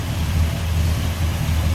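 A 1965 Pontiac GTO's tri-power V8 idles steadily under the open hood, a smooth low rumble close by with no speech over it.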